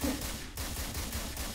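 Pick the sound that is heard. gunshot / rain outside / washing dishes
gunshot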